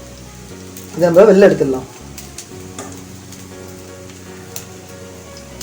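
Rice cutlets fry in hot oil with a steady low sizzle running throughout, while a voice talks briefly near the start.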